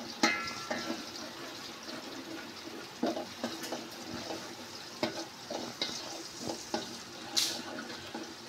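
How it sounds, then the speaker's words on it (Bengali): Spices frying in a pan until browned, giving a quiet, steady sizzle broken by soft scraping stirs and occasional clinks of a utensil against the pan. "এখন একটু কিছুক্ষণ ভেজে ব্রাউন কালার করে নিব"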